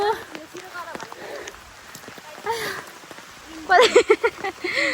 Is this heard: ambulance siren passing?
no